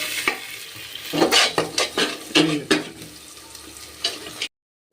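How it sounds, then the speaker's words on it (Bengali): Garlic and ginger for a mutton curry stirred in a hot pan, a spatula scraping in quick repeated strokes over a steady close sizzle, which stops abruptly near the end. "এটাকে 3 মিনিট মতো ভালো করে নাড়াচাড়া করে নিতে হবে"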